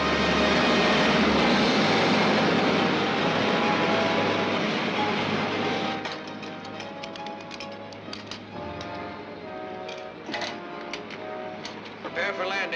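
Aircraft engine of a flying craft coming in to land, a loud steady roar that fades partway through, followed by lighter clattering and a talking voice.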